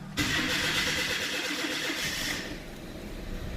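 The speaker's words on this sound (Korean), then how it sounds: "이제 시동을 걸어볼 텐데요 자 걸어보겠습니다" A car engine cranks and catches at close range, then settles into a steady, loud running hum that eases slightly after a couple of seconds, with no talk.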